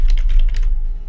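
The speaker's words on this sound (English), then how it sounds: "I just gotta type other stuff" Fingers tap a computer keyboard in a quick burst of close, crisp keystrokes that fade out within about a second.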